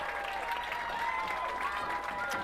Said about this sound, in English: Nice round of applause for the seniors and for the players coming out for the Squires.